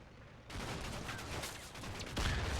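German gunfire in a war video game, heard as a sustained crackle of rifle and machine-gun shots with heavier booming impacts, loud and dense throughout.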